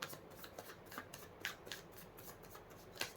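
Tarot cards being shuffled by hand, a soft run of quick papery riffles and flicks, close and quiet with no talking.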